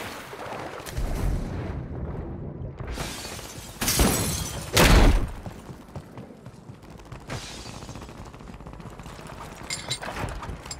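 A mortar strike in Call of Duty Warzone lands with heavy, booming blasts and shattering crashes, two loud explosions close together amid a steady rumble of gunfire and battle noise.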